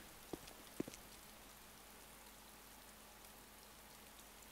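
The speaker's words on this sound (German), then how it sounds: "Wieso regnet es eigentlich hier drin?" Rain falls in the video game ArmA 2 DayZ as a very faint, steady hiss, broken early by two soft taps.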